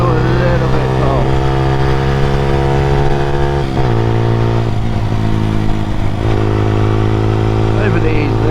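A Honda CBR125R motorcycle engine drones steadily at close range, pitch easing down and rising again as it shifts through gears while riding, with wind rush and some talk over it.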